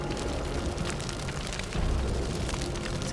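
A Minecraft explosion blasting through a wall gives a dense, rumbling roar with crackling debris, loud and continuous, swelling with a heavier low boom partway through.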